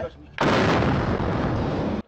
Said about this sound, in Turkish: araç kontrollü bir şekilde patlatıldı